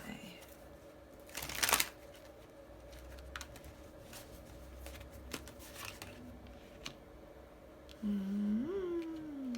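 A brief riffle of shuffling cards stands out near the start amid soft taps and room noise, followed later by a short rising squeak.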